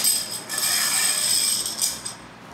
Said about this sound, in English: Slide a washer onto top of the pole, followed by a ball bearing. Slip both down to rest on the cotter pin.